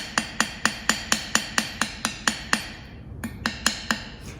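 A hammer taps the side of a metal adjustable ring band in a studio, about fifteen sharp, bright metallic clinks in a steady quick rhythm with a short pause near the end, close and without speech.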